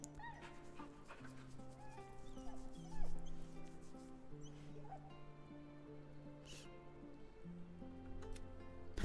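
A dog in Baldur's Gate 3 whimpers, yips and gives short excited barks after being petted, its sounds fairly faint and scattered over sustained game music.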